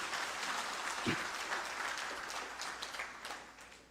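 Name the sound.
thunderous applause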